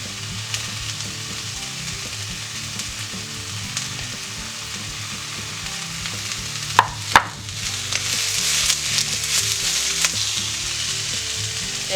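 Carrot and mixed vegetables fry in a pan for soba noodles, giving a steady close sizzle with a few sharp clinks and stirring scrapes partway through.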